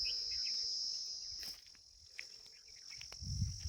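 Small forest insects keep up a loud, steady high-pitched buzz and chirp across the woodland, with faint rustling and a low thump near the end.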